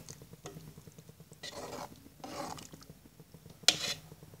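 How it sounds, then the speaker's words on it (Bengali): Shemai noodle pitha is stirred in a pot with salt added, making soft scraping and rasping strokes in a few uneven bursts. One sharper knock of the utensil against the pot comes near the end, and the whole is quiet and close. "এবার ঘন ঘন নাড়তে থাকবো না হয় একটার সাথে একটা লেগে যেতে পারে"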